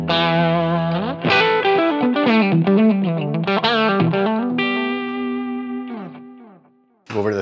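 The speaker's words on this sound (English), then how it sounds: "let's take a listen to what the sound of each of these different amps are without the tube driver engaged" Electric guitar through a Marshall amp model on a Line 6 Helix, with no tube driver engaged, plays a distorted melodic phrase with a long sustained note that fades out, then a sharp chord strikes at the end.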